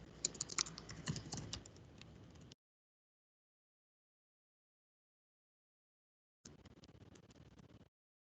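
Rapid keystrokes on a computer keyboard as details are entered into a web form, a dense burst of clicks for a couple of seconds, then silence, then a second shorter run of typing near the end.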